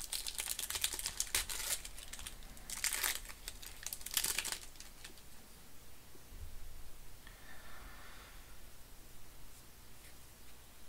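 A foil Magic: The Gathering booster pack torn open by hand, bursts of crisp crinkling and tearing foil up close, then softer rustling of cards under a steady background hiss.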